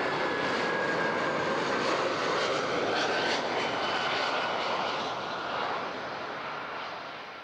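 An airliner landing on runway 14 at Zurich airport produces a broad, loud roaring rush of engine noise that holds steady and then slowly fades as it passes.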